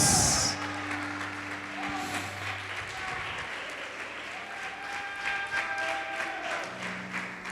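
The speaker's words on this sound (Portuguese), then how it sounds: "E você pode de pé aplaudir o Senhor e adorar a Deus." Standing congregation applauding during a church worship service, continuous moderate clapping under a sustained organ or keyboard chord and faint voices.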